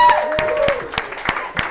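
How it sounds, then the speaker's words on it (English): Audience applause at a live game show for its host, a broad wash of clapping with a few sharp individual claps and a voice briefly over it. "And a round of applause for our game show mastermind"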